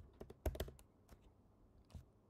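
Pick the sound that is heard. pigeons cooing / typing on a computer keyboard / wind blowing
typing on a computer keyboard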